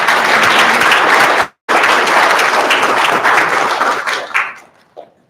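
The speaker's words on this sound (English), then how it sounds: "Let's go ahead and give her a nice warm round of applause." A university audience applauds as a dean is welcomed at a communication school event, with loud, close, dense clapping broken by a brief gap, then thinning to scattered claps that die away.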